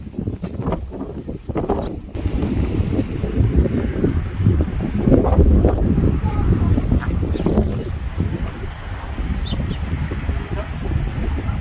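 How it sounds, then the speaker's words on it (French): Steady, loud wind buffeting the microphone with a low roar that swells and eases, no voices. "Je m'envole, il y a du vent."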